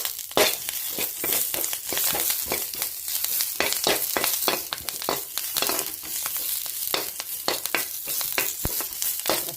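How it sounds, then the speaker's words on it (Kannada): Doddapatre leaves frying in ghee in a pan, a continuous crackling sizzle broken by frequent sharp spatters and the scrape of stirring, close and steady throughout with no talk. "ಫ್ರೈ ಮಾಡ್ಕೊಳ್ಳಿ."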